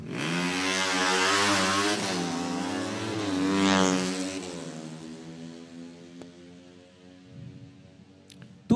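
An ESR racing motorcycle at an RS2 round in Melaka roars loudly at high revs with a harmonic engine note. It gradually falls away as the bike passes and fades into the distance, leaving faint background noise at the end.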